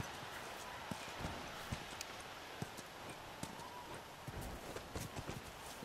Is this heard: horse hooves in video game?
yes